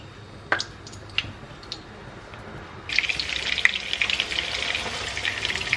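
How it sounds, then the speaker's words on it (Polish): A steady sizzle of a bread roll frying in a hot pan starts partway through, after a few quiet clinks and taps. "I teraz bułkę i smażymy."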